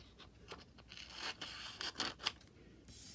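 Scissors snip through craft material for a small Snow White dwarf figure in a few quiet, close cuts with soft scraping between them.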